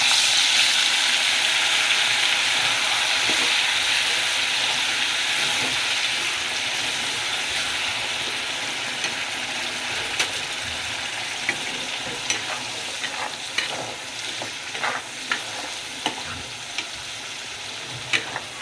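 A masala paste of onion, garlic, green chili and ginger, with cumin seeds, fries over a high flame. It makes a loud, continuous sizzle, and sharp spoon-scraping clicks grow more frequent toward the end.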